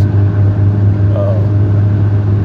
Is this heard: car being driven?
yes